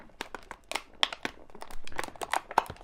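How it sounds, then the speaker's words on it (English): A plastic blister pack holding a yo-yo is pried open, giving close, irregular crinkling and crackling of stiff plastic in quick bursts. "you still have to open another blister"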